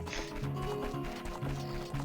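Horses in a video game make repeated short low tonal calls at a steady rhythm, fairly faint and layered over game sounds with light clopping.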